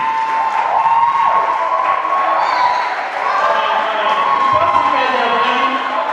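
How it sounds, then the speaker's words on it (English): An audience at a university debate session applauds a University of Ghana debater with a dense, sustained roar of clapping and some cheering that stays loud throughout, with voices mixed in. "He's giving a round of applause."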